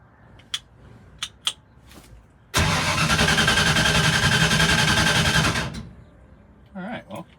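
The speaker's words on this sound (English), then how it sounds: "at least it cranks. We've got that going for us. Okay. Didn't fire." A 1965 Ford Ranchero engine cranks for about three seconds without catching, a loud, steady starter churn that stops abruptly, with a few clicks before it and brief talk after.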